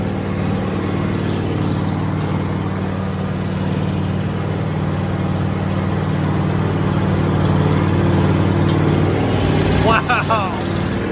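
A restored Allis Chalmers 440 tractor rated at 160 horsepower pulls a ripper, its diesel engine a loud, steady low rumble with a constant drone; a voice cuts in briefly near the end.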